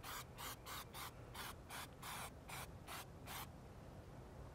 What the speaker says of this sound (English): I'm going to spray the rest of this front grill